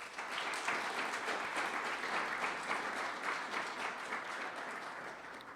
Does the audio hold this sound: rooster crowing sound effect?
no